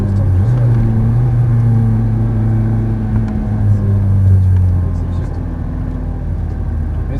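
A white Ferrari F430 sports car accelerates on a track, its engine giving a loud, close, steady drone with shifting pitch, while a voice talks over it.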